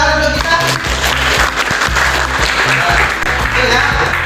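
Applause from a classroom audience during an economics teaching session at a university in Indonesia, clapping mixed with music-like tones and talk, fairly loud and close throughout.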